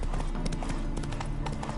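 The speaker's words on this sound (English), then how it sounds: "Spooking my horse. Roach doesn't like ghosts." Horse hooves clip-clop in a steady rhythm in The Witcher 3: Hearts of Stone, moderately close with a soft ambient bed beneath.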